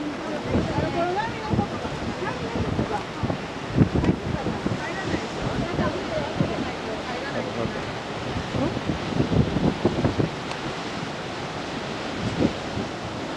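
Ocean waves break against the rocky Jogasaki coast in Shizuoka in a continuous loud surging wash mixed with wind buffeting, while voices talk faintly beneath it.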